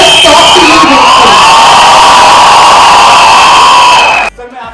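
A large crowd at a live song launch cheers, screams and whoops loudly and continuously, a dense roar of voices that cuts off abruptly near the end.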